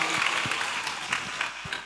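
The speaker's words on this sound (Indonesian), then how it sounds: "tepuk tangan dulu" An audience at a live religious stage show gives a brief burst of dense applause lasting under two seconds, moderately loud, with some voices mixed in.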